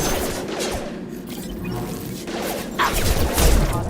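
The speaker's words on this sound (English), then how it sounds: "That sounds like Fenris mechs." Combat rages in Mass Effect 2 as Fenris mechs attack, with mechanical clanks, gunfire bursts and crashing impacts layered over a busy, rumbling background. The clatter grows louder toward the end.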